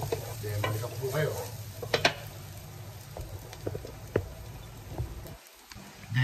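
Chop suey with chicken liver stir-fried in a wok, a steady close sizzle punctuated by sharp ladle clacks and scrapes at irregular intervals, with no voices.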